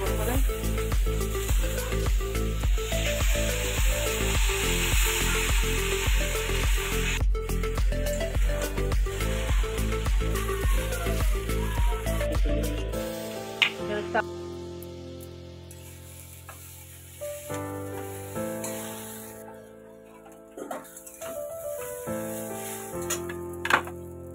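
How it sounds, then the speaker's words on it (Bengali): Chowmein noodles tossed into fried onions in a hot pan sizzle steadily and loudly, then fade to scattered scraping and stirring clinks of a utensil against the pan. "পেঁয়াজ আমার ভাজা হয়ে গেছে, এবার আমি চাউমিনটা পেঁয়াজের মধ্যে দিয়ে দিচ্ছি।"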